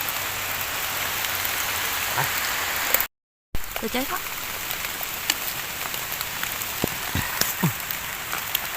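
Steady rain patters densely on a forest throughout, with occasional louder drops; a voice speaks briefly over it after a short gap of silence.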